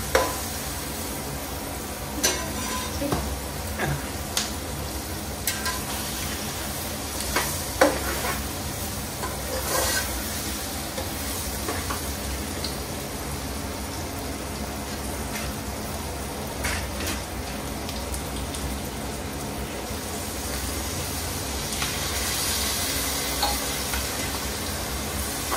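Chivni fish fry in masala in a pan for an Agri-style fish fry, a long, even sizzling hiss with occasional scattered clinks and scrapes of a utensil, close-up and steady throughout with no speech.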